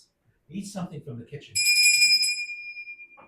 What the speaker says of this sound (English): Beautiful sterling silver 1820s English bell with a fox handle.